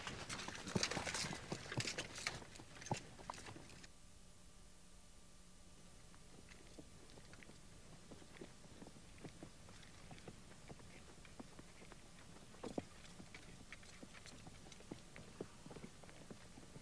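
Horse hooves clip-clop on hard ground, with several quick, loud steps at first and then sparse, fainter footfalls later over a quiet background.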